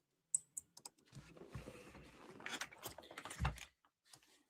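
Someone types on a computer keyboard in quick bursts of soft clicks and taps, mixed with some rustling and handling noise. The typing is fairly close and not very loud.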